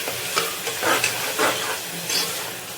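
Ginger paste frying for a mutton head curry, a close steady sizzle with a few scraping stirs of the spoon against the pan, no voices.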